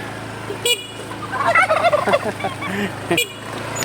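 A turkey gobbles in a rapid, warbling burst, fairly close, framed by a couple of short sharp calls before and after.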